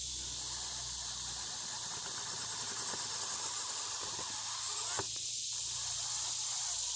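An Axial SCX24 RC crawler on a budget build drives across a homemade crawling course, giving off a steady electric motor whine and hiss that runs unbroken throughout, with a few faint clicks and no talking.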